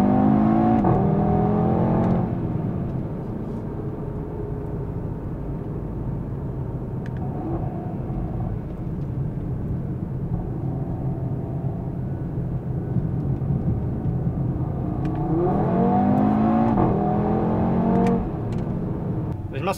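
A 2016 Audi TT RS engine accelerating while driving on a race track, a loud steady drone with rising revs at the start and again near the end, heard from inside the car alongside faint talk.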